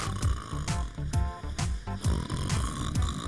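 A sleeping person snoring with the mouth open, a regular series of rough, rattling breaths repeating about every half second, close and fairly loud.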